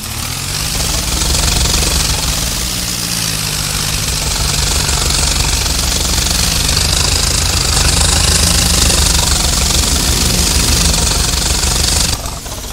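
A Swaraj 855 tractor in Farming Simulator 22 runs with a loud, steady diesel drone and heavy low rumble that holds for about twelve seconds, then cuts off abruptly near the end.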